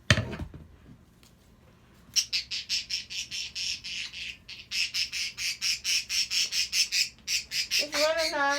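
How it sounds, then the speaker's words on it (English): A pet budgie squawks in fast repeated harsh bursts, a long rhythmic run of loud calls close by, after a brief quiet start with a faint voice. "If you want to know what that squawking is"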